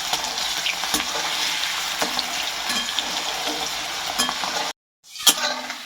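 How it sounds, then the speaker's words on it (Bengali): Potato pieces fry in hot oil with whole garam masala, giving a loud, continuous sizzle broken by scraping stirs and occasional utensil clinks, with a brief drop to silence near the end before frying resumes. "প্রথমে আলুটা আমি ভেজে নেব।"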